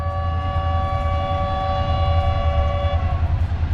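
The Bahauddin Zakariya Express, running from Karachi to Multan, passes Feroza railway station with its horn blaring. Loud sustained horn tones ride over the steady rumble of the train for several seconds, then the horn cuts off as the rumble continues.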